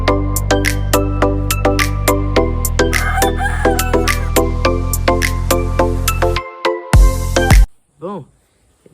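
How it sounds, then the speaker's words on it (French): A rooster clucks and crows close by, a run of loud repeated calls over steady background hum, ending in a sharp burst and then quiet. "Donc là c'est un coq"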